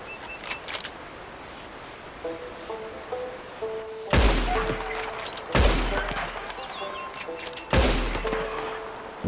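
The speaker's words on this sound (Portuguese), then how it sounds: "Um tiro no pescoço devia ter sido fatal, mas acho que eu estava muito longe." Rifle shots in Red Dead Redemption 2 while hunting an animal, three loud sharp cracks a second or two apart with booming tails, over quiet ambient wilderness sounds.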